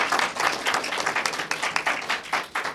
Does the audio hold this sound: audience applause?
yes